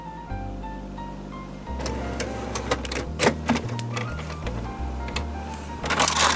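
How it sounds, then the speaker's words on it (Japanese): A Canon MG7530 inkjet printer prints a nozzle check pattern, its motor whirring in stepped tones that shift pitch, with rapid mechanical clicks and rattles. The sound grows busier toward the end, close by and with no talking. "ノズルチェックパターン印刷でちゃんとねインクが出てるかどうか確認していきたいと思います"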